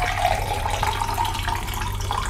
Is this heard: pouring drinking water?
yes